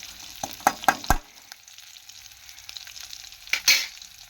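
Small onions frying in oil in a home kitchen, soft sizzling under a few close stirring scrapes and clatters, with a quieter stretch before another burst of stirring near the end.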